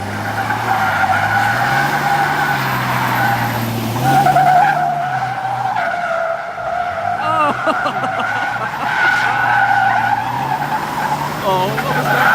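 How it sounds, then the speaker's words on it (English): Tires on a 2500 turbo diesel truck screech and wail as it drifts, with loud sustained squeals that rise and fall over the engine, close by, and voices reacting underneath. "Hey, you're roasting them tires."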